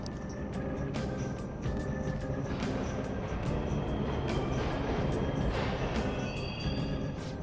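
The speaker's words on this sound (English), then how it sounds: "The trains are totally running." A subway train rumbles steadily through an underground station in the video game Persona 5 Royal, with a dense low roar and repeated rail clicks across the whole stretch, fairly distant and with no voices.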